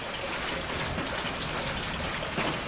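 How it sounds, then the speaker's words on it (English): Heavy rain pouring down outdoors, a dense, even hiss of falling water that stays loud and unbroken throughout, with no voices. "I would imagine you could have heard the rain in between my words."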